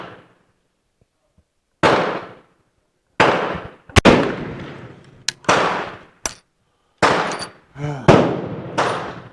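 A Werndl 1867/77 rifle fires several loud, sharp shots at close range, each ringing off in a long decaying echo, with gaps of a second or more between them and metallic action clicks in between.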